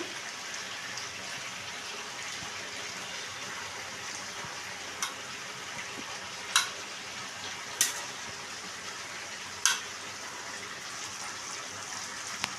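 Quiet, steady frying hiss as chicken is sautéed with whisked yogurt in a pan, broken by a few sharp clicks and scrapes of stirring.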